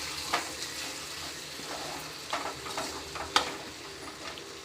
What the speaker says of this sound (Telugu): మొత్తం ఇట్లా ఫ్రై అయిపోయింది